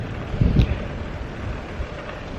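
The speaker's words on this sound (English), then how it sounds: "it's very windy out here today" Wind gusts buffet the microphone outdoors with a low, rough rumble, one stronger gust early on, then a steady breezy roar.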